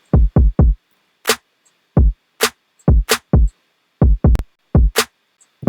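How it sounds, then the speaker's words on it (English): Kick and snare drum samples from Splice sequenced into a sparse beat: deep punchy kick thumps, some in quick pairs and triples, alternate with sharp bright snare cracks, loud, clean and dry against silence. "together this kick and snare sample sounds very punchy"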